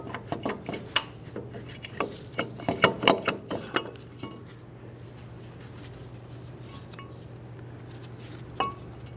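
Metal parts clink and rattle in a quick cluster as the brake caliper and pads are wiggled and pulled off a 1994-2001 Dodge Ram 1500. A faint low hum follows, then one more small clink.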